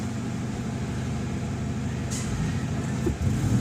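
A Toyota Vios engine idles rough at low RPM, a close, low, uneven rumble with a steady pulsing throb and a brief hissing burst partway through.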